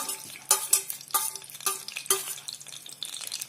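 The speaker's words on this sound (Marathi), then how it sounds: "फोडणी करणारे मी आता" Crackling sizzle of cumin and asafoetida hitting hot oil, with sharp pops and spatters bursting over a steady frying hiss, close by.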